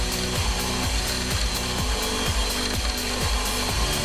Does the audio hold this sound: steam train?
no